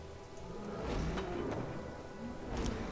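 Rain falls in the fantasy role-playing video game Divinity: Original Sin as a steady, dense hiss with faint low rumbles underneath, moderately loud and unbroken, with no voices.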